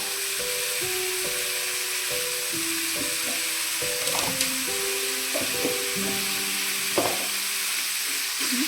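Coriander powder added to a hot, sizzling pan while making fish curry, a steady close frying crackle and hiss running throughout under soft background music.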